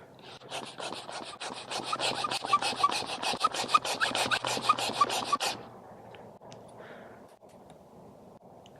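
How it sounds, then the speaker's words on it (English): A wire brush scrubs hard around a bolt in steady, rapid back-and-forth strokes, close and loud for about five seconds, then stops, leaving faint scattered scrapes. "I take my wire brush, give everything a good scrub."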